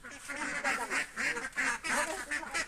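Ducks quacking together in a close, busy cluster, rapid overlapping calls in short bursts with no pause.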